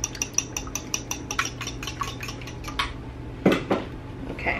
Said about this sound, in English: I'm gonna go on and mix them up.